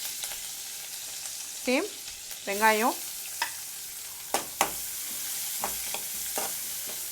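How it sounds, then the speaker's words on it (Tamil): Green chillies and cumin seeds frying in corn oil, giving a soft, steady sizzle and crackle with occasional sharp pops. A voice talks briefly over it. "இதில் இந்த ஜீரகம் நல்லா செவந்தோடனே இதில் பச்சை மிளகாய் ஆட் பண்ணிக்கோங்க"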